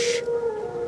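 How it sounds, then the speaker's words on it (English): Wild dogs howling in The Witcher 3, a single sustained tonal howl held steady for about a second, heard at a distance after a brief hiss at the start. "Wild dogs. Yes. More dangerous than wolves."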